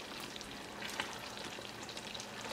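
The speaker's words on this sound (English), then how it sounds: "I'm going to go ahead and give that a little stir." Hot pink candy apple sugar syrup near hard crack stage bubbles and crackles faintly as it is stirred, with soft wet ticks and small pops over a quiet hiss.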